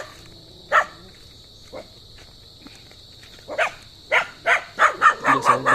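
A white dog in a rural Philippine yard barks angrily, a few spaced barks at first, then a rapid, loud, close run of barks over a steady insect drone.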